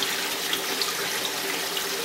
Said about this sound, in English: used 3-liter juice containers to get the water out of the barrel that I've preconditioned into the aquarium